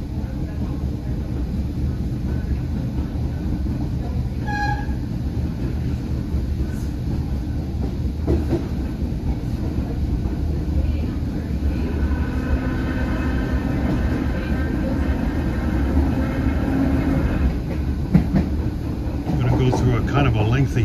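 Onboard an Irish Rail Class 8100 electric multiple unit running from Greystones to Dublin Connolly: a steady, loud low rumble and hum of the moving carriage fills the whole stretch, with light rhythmic wheel clatter and occasional faint squeaks.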